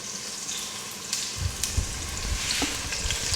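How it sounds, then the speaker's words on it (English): Meat sizzles in a frying pan with a steady hiss, joined by a few light clatters and pops partway through. "my meat is sizzling."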